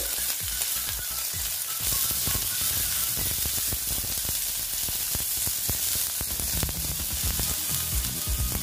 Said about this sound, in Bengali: এবার পেঁয়াজটা আমি ভেজে নিচ্ছি